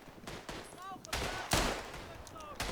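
Rifle gunfire in the World War I shooter Tannenberg, with several sharp shots and distant battlefield fire cracking over a noisy background, mixed with faint voices.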